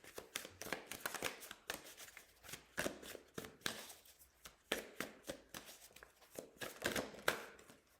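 Tarot cards shuffled by hand to pull a card, giving rapid riffling, flicking bursts in uneven waves that rise and fall across the whole stretch, close and fairly quiet with no talk.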